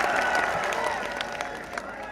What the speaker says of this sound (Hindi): सभी ने एक बार जोरदार तालियां मार के उनका सबका स्वागत करना चाहिए